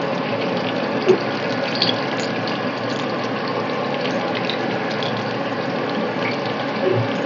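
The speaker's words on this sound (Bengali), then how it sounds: "তেলটা গরম হয়ে গেছে, এখন বেগুনগুলোকে ছেড়ে দেবো এর মধ্যে।" Pieces of eggplant sizzle in hot oil over a high flame, a dense, steady hiss with a few small pops, close and constant throughout.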